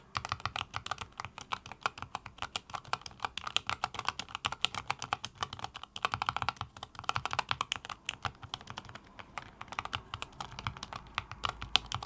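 Fast, continuous typing on a Keychron K4 HE Hall Effect mechanical keyboard, with dense, close keystrokes giving a moderately deep, thocky clatter throughout and no talking.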